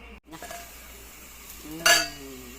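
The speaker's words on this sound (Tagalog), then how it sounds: "Takpan na natin para bilis maluto." A lid goes onto a cooking pot of fish sinigang with sweet potato leaves, giving one sharp metallic clink close by over a low kitchen hiss.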